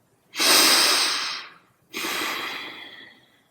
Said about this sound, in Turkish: Bozmaya çalıştıkları dengemize kavuşmanın huzuruyla nefes alıp veriyoruz.